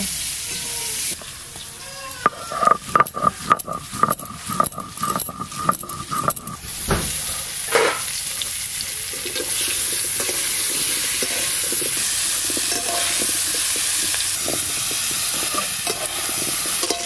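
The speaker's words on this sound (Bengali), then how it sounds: "আলুর দমের জন্য আলুগুলো আমি এরকম করে ভেজে নিয়েছি" Potatoes fry in hot oil for aloo dum. A run of rhythmic scraping and clinking stirs comes first, then a loud steady sizzle and hiss carries on by itself, close by.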